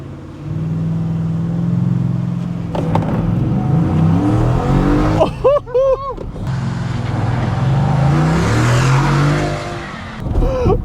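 An all-wheel-drive Ford F-150 pickup launches hard in four-high, its engine roaring steadily loud and close with a brief burst of tire squeal midway, while people talk over it.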